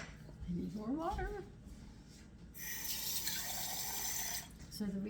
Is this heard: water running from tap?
yes